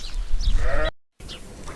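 Sheep and goats bleat inside a village barn, a few close, wavering calls with a brief gap of silence midway, then more bleating resumes.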